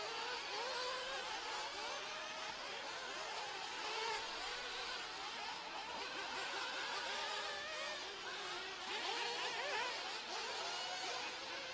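Small electric RC buggies race around a track during a ROAR race, their motors making a steady high-pitched buzzing whine that swells slightly as the cars pass.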